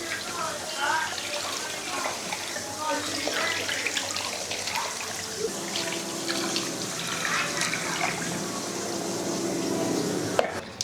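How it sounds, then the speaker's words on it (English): Water pours steadily into a container of brine for Thanksgiving turkey breasts, a continuous close splashing wash that runs the whole time with faint talk beneath it. "I'm going to add some water until it's submerged."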